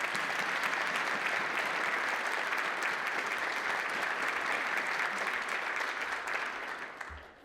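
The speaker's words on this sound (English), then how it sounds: "join me in giving them and their colleagues a round of applause" Sustained audience applause at a luncheon, many hands clapping in a dense, even roar that holds steady for several seconds before tapering off at the end.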